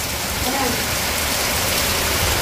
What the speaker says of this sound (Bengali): আর এই যে বৃষ্টি শুরু হয়ে গেছে